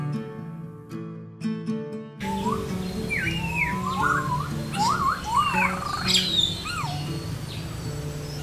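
A short burst of music gives way to lively whistled parrot calls and chirps at a zoo, repeated irregularly over a steady outdoor background.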